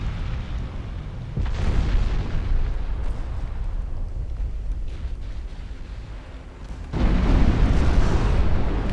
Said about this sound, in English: Here come the torpedoes.